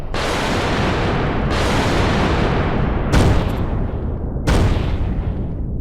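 Rocket artillery launches in the strategy game Final Strategy, four heavy booming blasts spaced about 1.5 seconds apart, each a loud roaring burst trailing off, with no talking.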